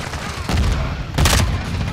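Gunfire in a first-person shooter game on the Shipment map, with bursts of shots around the middle and again near the end, mixed with game noise and radio-style callouts.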